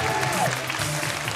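Brief clapping from a studio audience welcoming a guest on stage at a Vietnamese talk show event, a short burst with muffled low background tones.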